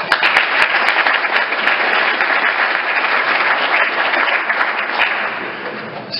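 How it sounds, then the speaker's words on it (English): An audience applauds a speaker being introduced, steady and loud clapping that stays full and even for several seconds with a few sharp claps standing out, then tapers slightly at the end. "Surprised you applauded first."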